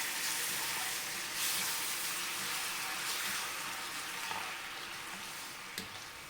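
Sugar and water being stirred in a pan to make caramel for kheer gives a steady, close hiss with soft scraping and bubbling, continuous and fairly quiet, with no voices.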